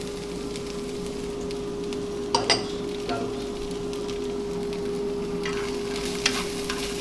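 Green beans sautéed with dried cranberries and chopped toasted walnuts, stirred in a pan: a steady soft sizzle runs throughout, with a few sharper scraping clicks of the utensil near the middle and toward the end, close and moderately loud, no talking.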